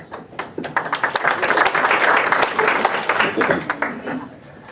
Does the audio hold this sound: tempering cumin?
no